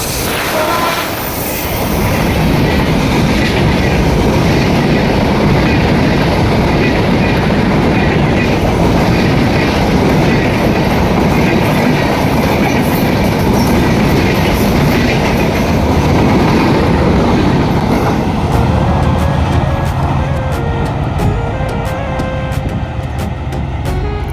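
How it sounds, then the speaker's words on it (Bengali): The Sundarban Express intercity train, bound from Dhaka Kamalapur to Rajbari, rushes past at speed: a loud, close, continuous rumble and wheel clatter that thins out toward the end. "দুর্দান্ত গতিতে এইমাত্র ট্রেনটি চলে গেল রাজবাড়ির উদ্দেশ্যে।"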